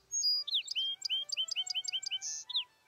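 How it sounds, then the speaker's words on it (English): A song sparrow delivers one bright, complex song: a few clear opening notes, then a rapid series of sweet trills and buzzy chirps, close and alone. "The victor sounds off, declaring the boundaries of his hard-won territory to neighboring song sparrows."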